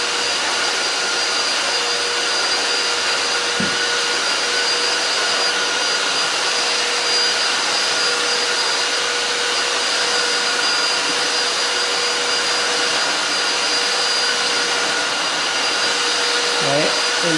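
An IFLOOOR 5 Steam 3-in-1 stick vacuum runs steadily for the whole stretch, a loud, constant motor whine and airflow hiss with a few faint knocks against the floor.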